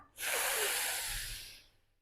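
A long, audible exhale through the nose or mouth during a home Pilates workout, one breathy rush close to the microphone that rises quickly, holds and fades over about a second and a half, with no speech.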